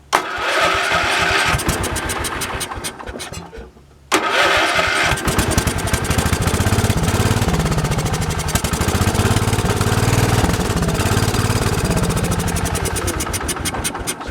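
An old engine that has sat unused for a long time cranks and fires, with a loud, rough, rapidly pulsing run that cuts out briefly and then catches again and keeps running steadily close by.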